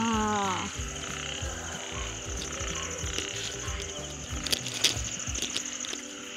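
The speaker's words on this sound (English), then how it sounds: "Listen that. Frog sound." Rhythmic croaking of frogs pulses steadily alongside a high insect drone, with a few brief bursts of nearby rustling.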